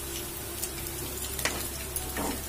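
Bobbari garelu, black-eyed pea vadas, bubble in hot oil as they are turned until browned, a steady soft sizzle with a few small crackles and no talking.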